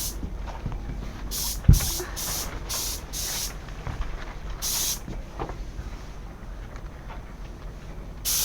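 An air spray gun run at about 55 psi through a long air hose lays a pre-coat of deck paint, giving repeated loud hissing bursts of a few seconds each with short pauses between them.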